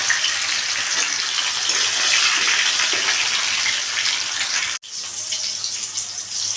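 Chopped tomatoes hiss and sizzle in hot oil tempered with bay leaf, dried red chilli and cumin, a loud, steady broadband crackle that cuts off briefly near the end and then resumes more softly.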